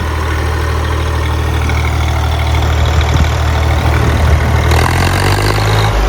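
A tractor engine idles loudly and close by, a steady low chugging drone that holds throughout, with a slight change in tone near the end.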